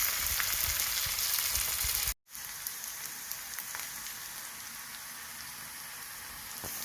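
Shallots, dried red chilies and curry leaves fry in hot oil in a pan, making a steady, close, loud sizzle that drops out for a moment, then crackles on evenly.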